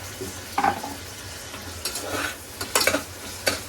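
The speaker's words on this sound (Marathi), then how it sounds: "हा कांदा आणि टोमॅटो चांगलं असं तेलामध्ये परतून घेते" Onion and tomato sautéing in hot oil, with a steady sizzle broken by a few sharp scraping stirs of the spoon through the pan, close and fairly loud, no talking.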